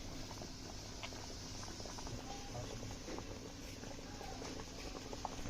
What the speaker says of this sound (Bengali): কলাগুলো ভালো করে সিদ্ধ করে নিতে হবে।